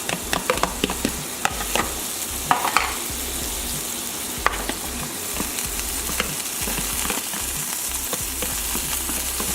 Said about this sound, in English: We're going to cook now the remaining pineapple and scallions.